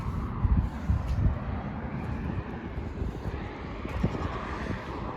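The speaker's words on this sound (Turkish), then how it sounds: "Bugün hava böyle şey ya, lodoslu tarzında, rüzgarlı." Strong, gusty southwesterly wind outdoors at a chicken farm buffets the microphone in bursts, rumbling low with a steady whoosh between heavier gusts.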